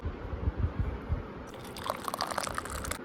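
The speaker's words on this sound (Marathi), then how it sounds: "आता आपण बाटलीत भरू" Raw mango panha mixture poured into a bottle: a low gurgling stream at first, then a brighter trickling fill with small splashes as the liquid enters, close and fairly quiet.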